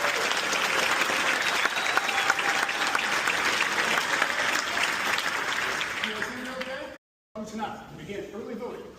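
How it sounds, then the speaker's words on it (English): An audience at a political debate between lieutenant governor candidates in South Carolina breaks into sustained applause, with scattered voices mixed in. The clapping thins out toward the end and is followed by a brief dropout and a few quieter sounds. "Y'all give Justin a round of applause."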